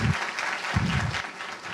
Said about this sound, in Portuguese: peço também para vocês uma salva de palmas para os nossos convidados, a Roberta Genásio.